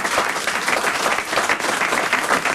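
Studio audience at a comedy game show bursting into dense, steady applause, a close and loud wash of many hands clapping with no pause.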